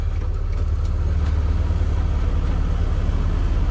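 A carbureted car engine idles steadily after starting, a constant low rumble with no change in pace and no other sounds.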